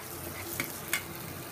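Onions browning in a pan give a soft, constant sizzle, broken by two quick scrapes of a stirring spoon, close and faint.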